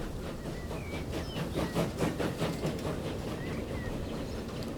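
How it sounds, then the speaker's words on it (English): Full passenger train pulling out of a station in the rail simulation game Transport Fever 2, a steady rumbling roll with faint hiss and rhythmic clatter, continuous and moderately close, no talking. "There it goes, looking like a full train."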